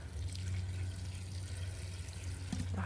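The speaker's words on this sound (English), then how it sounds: "So let's go ahead and start giving them some water." Water poured onto vegetable plants in an organic home garden on a warm mid-April day, a steady splashing and pouring close by that runs without a break, with no talk.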